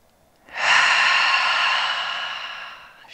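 A long, deep inhaling breath during a guided trauma-informed yoga session, drawn in steadily and close to the listener, swelling quickly and then fading slowly, alone in a quiet room.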